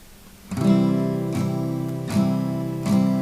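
Four steady guitar strums, one per beat, each chord ringing out fully before the next downstroke, played close and clear with no voices.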